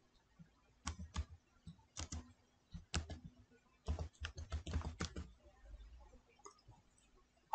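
Fingers tapping out a channel name on a computer keyboard, close and crisp, in uneven bursts of quick keystrokes separated by short pauses.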